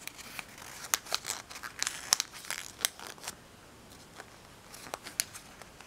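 Sheets of paper folded and creased for an origami face holder, giving a run of crisp crinkles and sharp rustling snaps, some close and loud, with quieter stretches between, and no voices.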